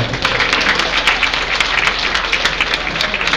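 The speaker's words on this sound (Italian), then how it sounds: "facciamo un applauso e diamo veramente un benvenuto" Steady applause from a crowd, dense clapping continuing evenly throughout at a fairly loud level.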